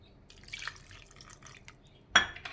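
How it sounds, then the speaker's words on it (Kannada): Water poured into rava idli batter: faint wet trickling and dripping, then a sudden brief splash near the end, close by and quiet. "ಇದು ಸ್ವಲ್ಪ ನೀರು ಹಾಕಿ"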